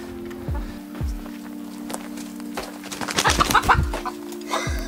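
Chickens cluck in short bursts, growing busier toward the end, over a steady low hum and scattered thumps.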